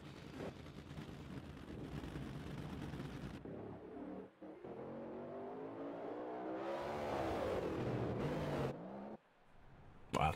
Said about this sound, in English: listen to these awesome cars go down the track